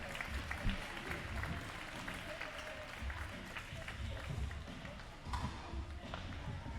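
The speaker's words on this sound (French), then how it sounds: "et applaudissements pour Lucie!" Applause and crowd noise fill a large space, clapping mixed with thumps, footsteps and a voice talking over it.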